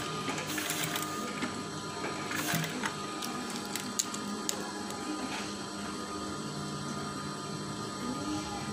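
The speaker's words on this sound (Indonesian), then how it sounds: "Lalu kita jahit lagi." A sewing machine stitches a curtain swag with a rapid, steady mechanical whirring and clatter, close and continuous with small pauses and clicks as the fabric is guided.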